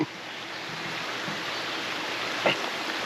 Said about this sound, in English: Especially sitting here by the creek.